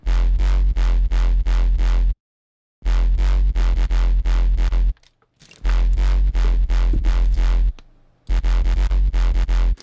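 A synth bass shaped by a comb filter, overdrive and EQ plays a loud, gritty, buzzing riff of repeated short notes in rhythmic bursts, broken by brief silent gaps.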